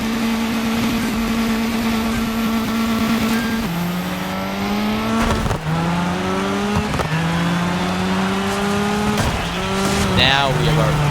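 A Mitsubishi Evo rally car races in the video game DIRT 5, its engine revving loudly and climbing through several gear shifts with tire squeal, while a voice talks over it.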